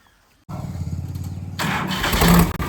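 A Farmtrac 45 tractor engine kicks into life after a short quiet moment, then runs loud and steady with a low rumble, revving harder as it pulls away.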